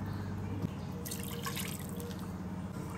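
Water pours and trickles into a metal pressure cooker holding mutton nearby, a steady splashing stream over a low background hum.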